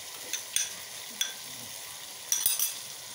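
Ketchup being stirred into macaroni in a pan, with a few soft scrapes and light clinks of a spoon spaced irregularly over a faint sizzling background.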